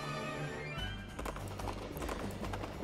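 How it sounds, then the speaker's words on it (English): Horse hooves galloping in the Princess Peach Showtime video game, a quick run of rhythmic clip-clop beats that come in after a musical opening and continue steadily to the end. "Let's go, horse! Ride like the wind, Bullseye!"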